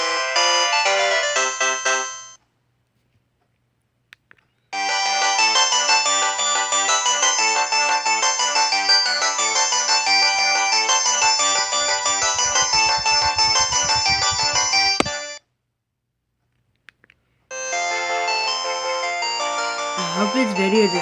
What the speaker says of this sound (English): This phone has a lot of ringtones